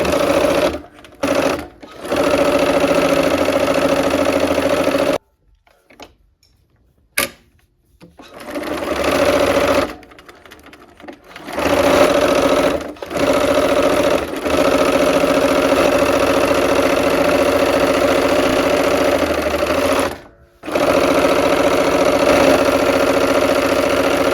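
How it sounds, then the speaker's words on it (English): A sewing machine stitches quilt rows in long steady bursts of fast, even humming. It stops briefly several times and then starts again, with no one speaking. "So I'm going to go ahead and start sewing."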